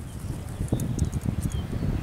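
A gray horse, a school horse crossed with a heavy breed, stepping close by with a quick run of hoofbeats in an uneven rhythm, alone with no talking.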